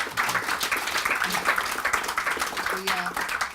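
An audience applauds a panel after an AI safety discussion, a steady wash of clapping throughout with voices mixed in over it.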